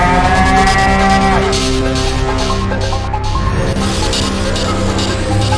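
A long, loud cow moo plays as a sound-effect alarm, a deep drawn-out bellow with wavering pitch that fills the whole stretch with no talking.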